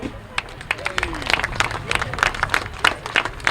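Scattered crowd applause for a solo grasstrack rider on the podium at a British Masters qualifier, uneven bursts of clapping heard from a distance while a commentator talks over the top.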